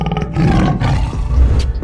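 A Bengal tiger kept as a pet in a Southern California home roars twice in quick succession, deep, close and loud, with no talking.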